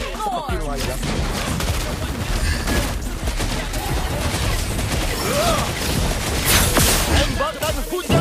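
Dense bursts of rapid gunfire and explosive booms in the video game Mobile Legends: Bang Bang fill the clip continuously, loud and chaotic, with faint voices mixed in.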